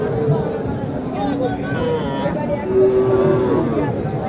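A steady, sustained moo from cattle at the Naogaon livestock market near Mataji Haat swells midway through, set against constant crowd babble and nearby talking.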